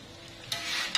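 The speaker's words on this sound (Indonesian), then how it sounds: "Kita goreng-goreng." Banana fritters fry in hot oil, giving a soft close sizzle that swells midway with a few sharp crackles, brief and moderately loud, with no speech.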